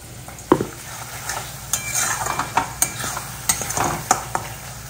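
Onions fry in oil in a home kitchen pan, a soft constant sizzle punctuated by a series of sharp spatula clacks and scrapes against the metal, close by and fairly loud.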